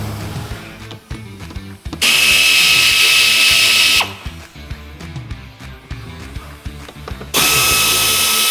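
A power drill whirs loudly in two sustained high-pitched bursts while fasteners and clips are removed from a Toyota Hilux bumper. Clanks, knocks and handling noises from the close-up work fill the gaps between bursts.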